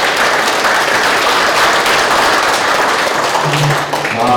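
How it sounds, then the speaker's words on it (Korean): Loud, steady applause from a large audience at a company year-end party honoring retired professors, continuous clapping filling the room with a brief voice near the end. "박수 부탁드리겠습니다."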